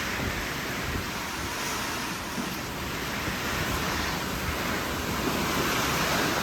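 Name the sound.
strong wind during a rainstorm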